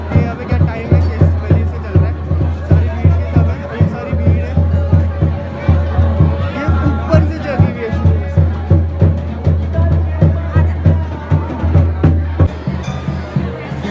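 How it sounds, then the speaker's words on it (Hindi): Crowd of devotees at Kamleshwar Mahadev temple in Uttarakhand: steady murmuring hubbub of many voices with a rhythmic pulsing beat, close and fairly loud, continuing throughout. "सारी भीड़ जितनी भी है ये सब आ रखे हैं।"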